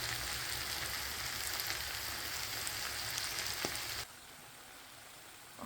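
Shrimp fry with bitter gourd and potato in a pan, giving a dense, steady sizzle that suddenly quietens to a softer hiss near the end, with no voices.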